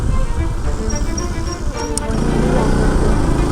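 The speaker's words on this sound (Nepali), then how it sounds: "रातिको समयमा चाहिँ बाइकको इन्जिनले पनि एकदम खतरा सपोर्ट दिन्छ क्या" Motorcycle engine droning steadily on a night ride along a Nepali jungle road, loud and continuous throughout with a slight dip midway, under wind and road noise.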